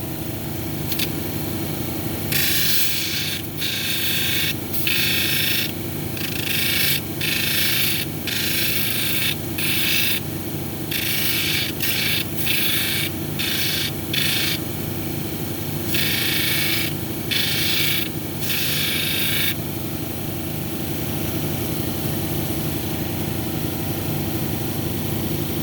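A lapidary machine hums steadily while a hematite cabochon is ground at 280 grit, with bursts of rasping scraping as the stone is pressed to the wheel in repeated passes, then the motor continues alone.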